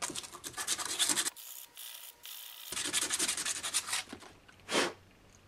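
A copper piece is rubbed flat and smooth by hand with steady close scraping and sanding strokes, broken by a short pause and followed by a few more strokes and a brief scrape.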